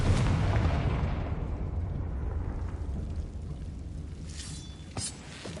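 A Confringo blasting spell explodes in Hogwarts Legacy with a deep, loud rumbling boom that slowly decays, and a faint pop follows near the end.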